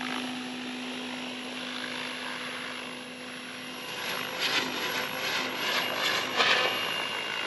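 An XL Power Specter 700 V2 RC helicopter hovers close by on its maiden flight, a steady whining rotor and motor drone that turns louder and choppier midway, with outdoor wind.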